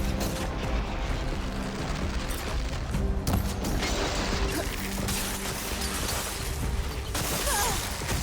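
Gunfire and weapon blasts in the video game Horizon Forbidden West, a dense stream of shots, crashes and booms mixed with loud game effects throughout.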